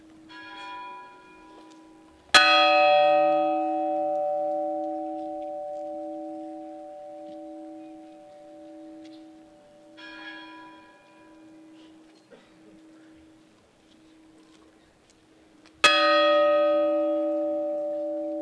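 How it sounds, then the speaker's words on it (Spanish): The large bell of Zamora cathedral rings out during Holy Week, three loud resonant strikes spaced several seconds apart, each leaving a long humming decay, with a faint smaller chime in between. "escuchamos la golondrina, la campana grande de la golondrina"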